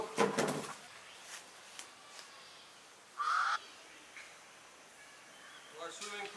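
Ducks beside a swimming pool in The Gambia give a few faint, scattered calls, with one clearer, longer honk in the middle amid quiet background and occasional knocks.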